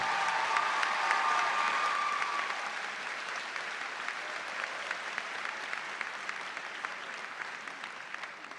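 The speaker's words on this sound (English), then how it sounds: "Let's have a round of applause for all of our graduate students who are graduating." A large crowd at a university spring commencement applauds its graduating graduate students with dense, sustained clapping that gradually softens toward the end, without talk.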